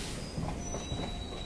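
MEMU passenger train pulling into Kharik railway station in Bhagalpur, Bihar, with a steady rumble and faint wheel squeal, continuous and fairly close throughout.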